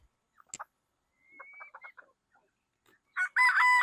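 A farmyard rooster gives short clucks and calls, followed by a loud nearby crow at the end, with pauses of near silence between the sounds.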